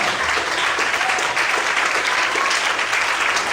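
A church congregation claps together in a dense, continuous burst of applause, steady and loud for a few seconds.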